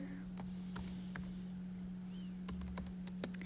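Fast, light clicks of a computer keyboard as HTML code is typed, irregular bursts of keystrokes close by over a steady electrical hum.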